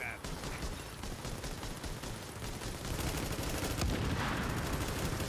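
Dense, rapid gunfire from several weapons in a firefight in The Division, a continuous stream of sharp shots that grows slightly louder toward the end, with voices mixed in.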